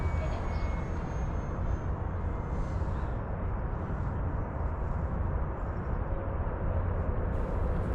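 An FMS PC-21 Pilatus RC model plane with a 4S electric power system whines steadily in flight, a continuous buzzing drone that stays at a fairly even level.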